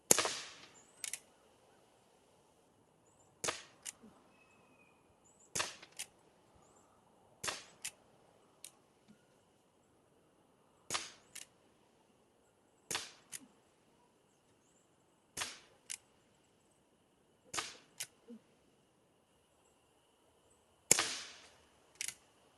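Shots from an Umarex Legends Ace In The Hole airgun firing field target pellets: about ten sharp, dry cracks spaced a few seconds apart, each a crisp close snap with a short tail, separated by near silence.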